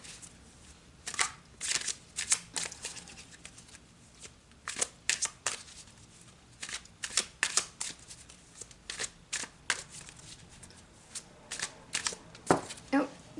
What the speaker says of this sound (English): let's take a look at it with the tarot and see what the tarot's got to say about this